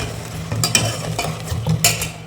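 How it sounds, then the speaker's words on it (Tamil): Yogurt being stirred into a pot for Ramadan nombu kanji: close, wet stirring and scraping strokes of a spoon against the pot, repeated in a loose rhythm with a faint sizzle beneath. "தயிர் போட்டுக்கிறேன்"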